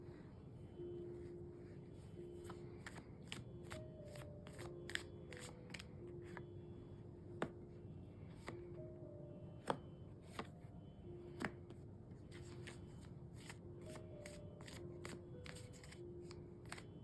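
Soft riffling and tapping of tarot cards being shuffled during a reading, a steady run of quick crisp flicks at close range, faint and intimate throughout.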